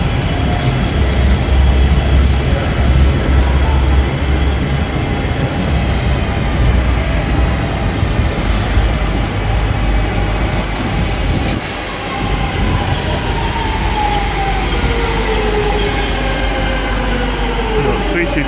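A Class 323 electric train rumbles loudly and steadily through Preston station, with a continuous heavy roar of wheels on rail and faint squealing tones rising over it throughout.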